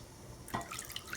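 Water being poured into a bowl of yogurt, a short splash and trickle close by, brief and soft against a quiet background.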